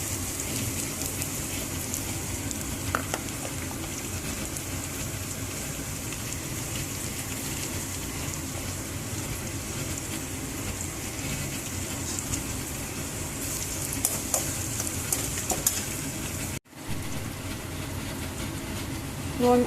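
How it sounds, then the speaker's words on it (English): Finely chopped onions and spluttering curry leaves sizzle in hot oil, a dense, steady hiss with scattered crackles that cuts out briefly near the end and then resumes. "curry leaves have started to splutter now. I'm adding the finely chopped onions to it."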